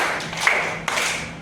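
Hand claps in a classroom clapping game, two sharp claps spaced about half a second apart over a quiet room.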